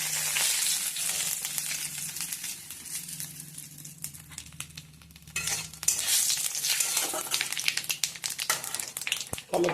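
White cumin seeds frying in hot oil with a bay leaf for Bengali egg curry, giving a loud, close crackling sizzle with sharp pops and spatters that briefly quiets midway, then surges again, no talking.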